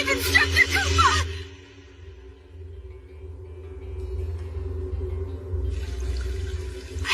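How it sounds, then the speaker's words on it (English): Water flowing in an animated series scene, a bright rushing burst at the start that drops to a low steady rumble, then returns as a hiss near the end. "I can hear it. The sound of water."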